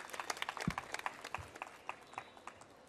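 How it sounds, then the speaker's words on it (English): Sparse, faint applause from an audience at a photography awards event in Mumbai honoring photojournalists: scattered individual claps over a few seconds, thin and distant rather than a full ovation. "Round of applause for these photojournalists."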